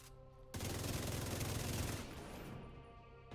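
Automatic weapon fire in The Division 2 shooter game: one sustained burst of rapid shots lasting about two seconds, loud and dense, then fading into a lingering tail.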